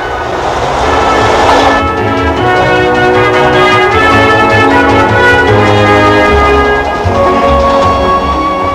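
A Rotterdam metro train runs above ground on a purpose-built viaduct on the south bank of the Maas, giving a loud, continuous rumble with droning tones and rattles throughout.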